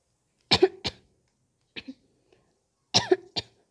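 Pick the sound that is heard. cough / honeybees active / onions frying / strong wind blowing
cough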